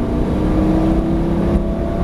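A Lamborghini Gallardo engine revs hard and steady under acceleration on a race track, a loud sustained drone with a rising harmonic tone close by.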